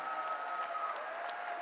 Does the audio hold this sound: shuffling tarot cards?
no